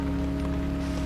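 Steady rain falls outdoors at night, a dense even wash of drops that fills the clip without a break, with a low constant hum under it and no voices.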